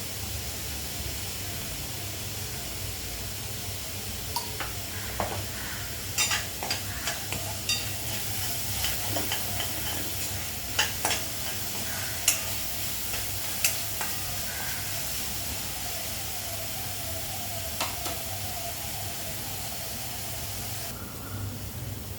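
Chopped onion frying with salt in a pan, a steady sizzle and hiss with occasional stirring scrapes and clinks, close and continuous without talk.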